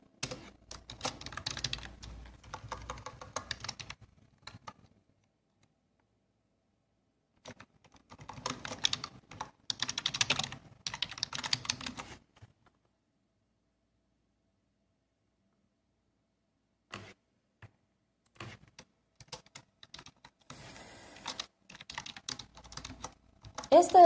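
Code is typed on a computer keyboard in bursts of rapid clicking keystrokes, separated by long silent gaps, with a voice talking at times.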